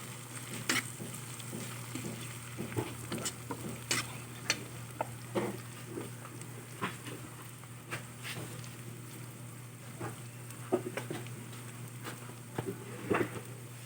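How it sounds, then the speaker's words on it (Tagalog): Blended garlic and chili are stirred into chili oil in a pan, with a quiet low sizzle beneath repeated soft scrapes and taps of a spoon against the pan, close and without talking. "Halu-halu-haluin lang natin."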